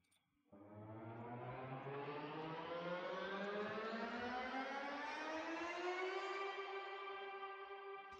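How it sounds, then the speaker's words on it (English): A large synthesized pitched riser effect glides steadily upward in pitch for about seven seconds, dense with harmonics and washed in echo and reverb, loud and sustained after a quiet start. "And then a big pitched riser."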